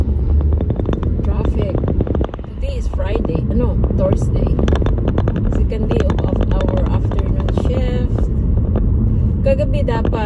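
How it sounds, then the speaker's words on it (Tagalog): Steady road traffic rumble with wind buffeting the microphone in the Philippines, continuous and fairly loud, with people talking over it throughout. "Traffic."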